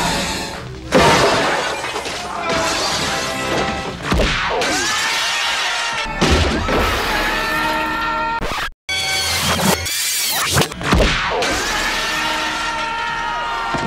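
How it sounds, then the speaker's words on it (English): Glass shattering repeatedly as people are thrown through panes in a RoboCop action scene, sharp loud crashes and tinkling debris bursts in quick succession, with brief gaps between impacts. "Not enough people get thrown through glass."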